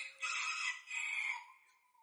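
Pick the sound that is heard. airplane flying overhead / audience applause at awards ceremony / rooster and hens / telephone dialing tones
rooster and hens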